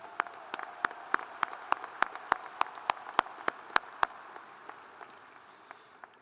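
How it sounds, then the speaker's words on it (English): Sparse, slow clapping at a university commencement ceremony honoring the WSU Regents: a handful of distinct, evenly spaced claps ring out across a large hall over a faint room hum, thinning toward the end. "Please give a big Coug round of applause to our Regents and all that they do for WSU"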